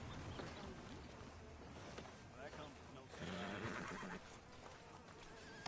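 A horse whinnies loudly in Red Dead Redemption 2 over clip-clopping hooves and game ambience, with voices talking at the same time.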